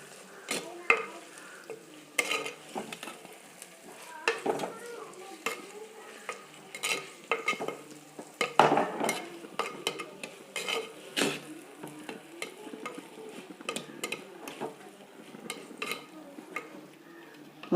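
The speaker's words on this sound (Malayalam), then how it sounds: "ഒന്ന് നന്നായിട്ട് മറിച്ച് കൊടുക്കാം" Onions and tomatoes are stirred as they fry in a pan: a soft sizzle runs under repeated close scraping and tapping of a spoon against the metal, in an uneven rhythm.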